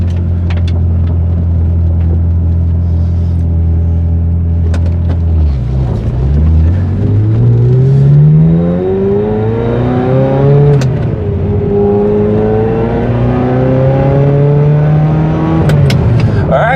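A Ferrari 355 driven on a road, its engine loud and close as revs dip, then climb through gears in rising sweeps, with a throaty steady drone between shifts.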